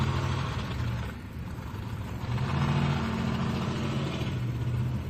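A light modified class pulling tractor powered by a 1,710 cubic inch Allison aircraft engine roars steadily at an outdoor tractor pull, its sustained engine drone swelling and easing slightly throughout.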